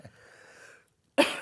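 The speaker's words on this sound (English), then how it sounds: "Excuse me for coughing." A single close, sharp cough comes after a faint breathy murmur and a short silence, loud and abrupt at the end.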